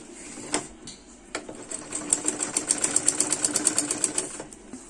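A sewing machine stitches the waistband of a salwar, giving a close run of quick, rhythmic needle clatter that speeds up and then slows to a stop.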